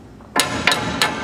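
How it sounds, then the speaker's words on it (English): Three sharp metallic hammer strikes land on a screwdriver while working on a 1989 Ford F-150, spaced about a third of a second apart, close and loud with short ringing decay. "Let's try this hammer."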